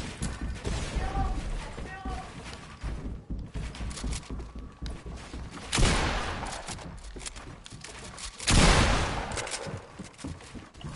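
Gunfire in a video game box fight: scattered shots and two louder bursts of rapid fire, with players talking over the action.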